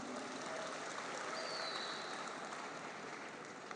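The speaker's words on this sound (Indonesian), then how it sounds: "Tepuk tangan buat kita semua" Large crowd at the opening ceremony of a Nahdlatul Ulama sports and arts festival applauding, a steady, hissing wash of distant clapping sustained evenly throughout.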